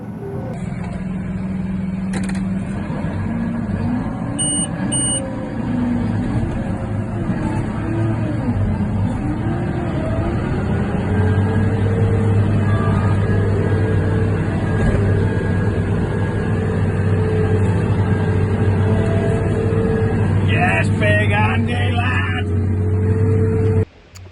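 A quad track tractor stuck in a wet spot after a harvest drones on steadily with a low engine hum for the whole stretch. The note shifts a little in pitch as it strains.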